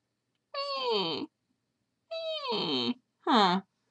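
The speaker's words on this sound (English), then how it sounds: "he ran into the living room with his old man meow going" An old cat gives three drawn-out, croaky meows in close succession, each a loud, nasal 'meh' separated by silence, the last one shorter and higher.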